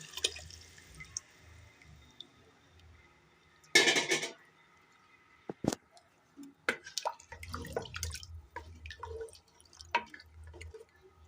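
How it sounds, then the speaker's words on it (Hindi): Reserved beef stock (yakhni) for nihari is poured into fried beef in a pot in one short splashing gush, followed by scattered drips and light clinks of utensils in a quiet kitchen. "अब हमने जो ये यखनी निकाली थी वो इसमें मिक्स कर देंगे।"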